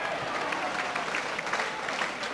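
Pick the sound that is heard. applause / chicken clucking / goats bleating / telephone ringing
applause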